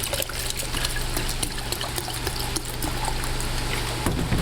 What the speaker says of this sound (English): Now we're going to add the vinegar.